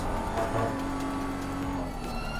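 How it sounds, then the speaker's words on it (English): A BMW M4 GT3 race car engine roars steadily in a GT3 racing video game, a continuous loud drone with shifting pitch and no talk. "I actually kind of like how this car sounds sometimes"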